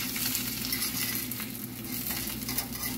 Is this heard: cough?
no